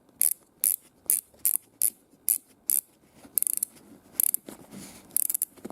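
A Klim motorcycle boot's BOA lace dial is twisted in short bursts, giving crisp plastic ratcheting clicks in a quick irregular series, close and clear with no talking.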